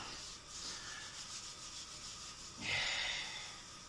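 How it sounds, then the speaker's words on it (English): Flour-dusted hands rubbing together up close, a soft, dry swishing in steady strokes, with a louder rasping rub near the end, no talking. "I'm just going to rub my hands with flour"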